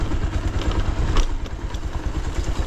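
A motorcycle rides along a slippery road, its engine giving a close, loud, steady rumble with rattling clatter throughout.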